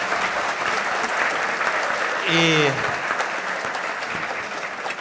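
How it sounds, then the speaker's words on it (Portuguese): Steady applause from a conference audience at a smart-cities panel continues for the whole stretch, dense and even, with a brief voice sounding over it midway. "Palmas."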